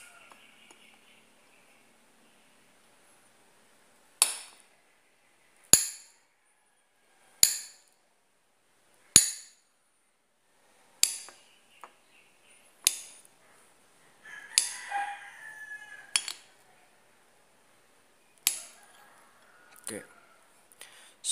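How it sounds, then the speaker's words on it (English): A knife chops a banana on a cutting board in about ten sharp, separate strikes, close and crisp, with short irregular pauses between them. "here is the banana and I will just chop this"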